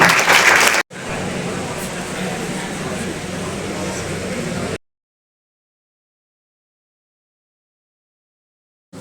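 Applause at a college anti-addiction camp event: a brief loud burst, then a few seconds of continuous crowd clapping that cuts off abruptly into silence.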